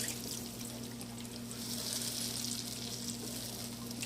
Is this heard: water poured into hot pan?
yes